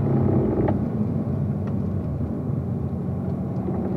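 Car accelerating on a race track at full throttle, a continuous heavy low rumble of engine and road noise, loud and steady with slight swells.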